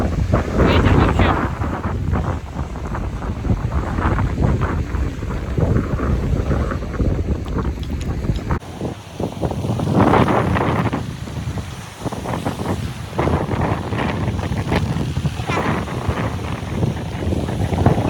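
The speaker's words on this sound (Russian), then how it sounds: "Ветер вообще." Strong wind on a beach buffets the microphone in a continuous loud roar with gusting swells, broken by a brief dip midway; a voice is faintly present beneath the rumble.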